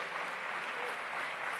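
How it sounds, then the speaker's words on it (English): Attendees at a presidential summit on gender-based violence and femicide applaud, producing a steady, dense, even wash of clapping from a large hall with no talking. "Please let's give them a round of applause, if you will."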